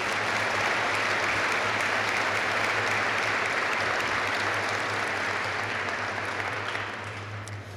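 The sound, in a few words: applause for Company Grade Officer of the Year nominees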